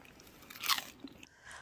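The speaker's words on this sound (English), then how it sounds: "Wait for the crunch." A single crisp crunch as someone bites into crispy potatoes made in a Ninja Foodi XL Pro grill air fryer, close and brief, followed by faint chewing; no talking.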